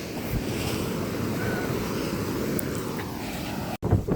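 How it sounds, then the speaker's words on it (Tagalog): Strong wind from Super Typhoon Uwan roars without a break on the coast at Nasugbu, Batangas, buffeting the microphone over crashing surf, with a brief dropout near the end. "Napakalakas na ng hangin."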